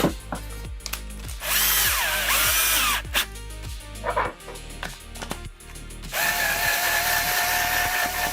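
A power drill drives screws into a 3D-printed skateboard in several close, loud bursts, with ratcheting whirs that rise and stop, then a sustained final run.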